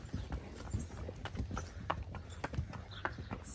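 A horse walked along an alley, its hooves clip-clopping in a steady, unhurried rhythm. The sound is close and fairly soft, with no one talking.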